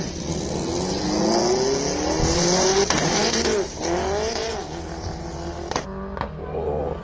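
A hillclimb race car drives in competition, its engine revving and dropping erratically through uneven gear changes, with tire noise, loud and fairly close throughout.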